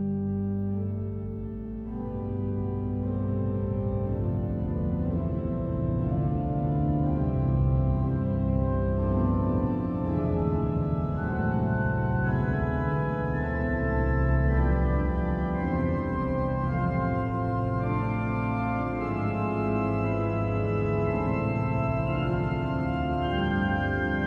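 Pipe organ in Saint-Eustache, Paris, playing a rising melody on its foundation stops, with a full, sustained tone and a steady level that fills a large resonant church, no voices present.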